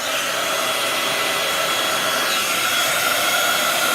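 Heat tool blowing steadily while heat-setting embossing powder on a Christmas craft stamp, a continuous loud whooshing roar with no talk.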